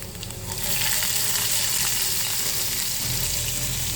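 Crushed garlic, ginger and onion hitting hot oil for dal tadka, a loud hissing sizzle that swells within the first half second and then holds steady and close.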